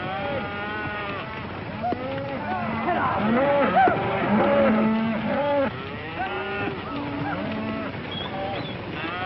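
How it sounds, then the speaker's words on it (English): A herd of cattle on an open range lowing continuously, many overlapping moos near and far forming a dense, steady chorus. "Mighty fine cattle, boss."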